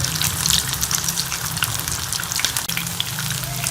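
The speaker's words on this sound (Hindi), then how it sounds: "तो अब हम इसमें ये कटलेट्स जो हैं ये फ्राई कर लेंगे।" Bread kabab cutlets fry in hot cooking oil, giving a steady, dense crackle and hiss that stays close and fairly loud throughout, with a brief dip near the end.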